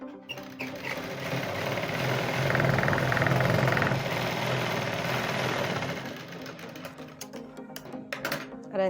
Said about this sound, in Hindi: अब मैं यहाँ से यहाँ तक सिलाई लगा लेती हूँ